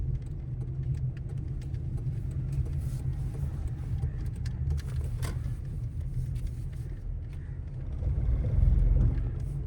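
Inside a car driving slowly and turning left, a low steady engine rumble hums along, faint and even, swelling slightly near the end.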